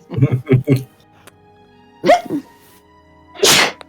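A single sharp sneeze bursts out after a few short vocal sounds and a pause, close and loud.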